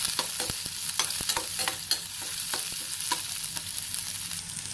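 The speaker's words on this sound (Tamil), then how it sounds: "இப்போ வெங்காயம் நல்லா வந்து வதங்கணும்" Small onions sauté in a pan for drumstick leaves sambar, a steady sizzle broken by regular sharp spoon scrapes and taps, close and without speech.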